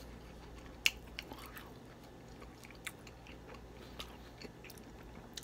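Sweet lemon hot wings are bitten and chewed close up, a quiet crunch at the first bite followed by soft, intermittent chewing with no talking.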